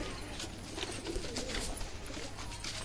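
Gola pigeons kept in a coop give soft, low cooing calls, quiet and somewhat muffled against a faint background hiss, with no speech.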